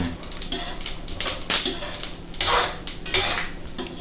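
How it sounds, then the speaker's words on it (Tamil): Cashews and groundnuts frying in a pan, loud metal-on-metal scraping and clatter of a spoon stirring in uneven bursts over a light sizzle, close by, without speech. "கொஞ்சம் அந்த முந்திரி பருப்பும் கிரவுண்ட்நட்டும் கொஞ்சம் ஃப்ரை ஆகட்டும்."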